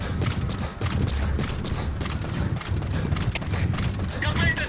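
Horse hooves clip-clop in the video game Metal Gear Solid V: The Phantom Pain, a steady rhythmic trot mixed with game ambience and someone talking throughout, with some creaking and mechanical noise.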